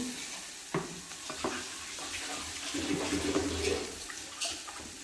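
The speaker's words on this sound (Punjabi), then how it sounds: "ਇਹ ਪਾਣੀ ਪਾਵਾਂਗੇ" Water pours steadily into a cooking pot of potato and Amritsari wadi curry, a soft rushing splash with a few clinks of utensils against metal.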